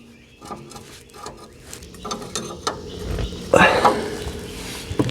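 A ratchet wrench tightening a shock bolt on a 1997–2001 Honda CR-V, with a series of close mechanical clicks and clatters and a louder burst near the end, with faint voice in the background.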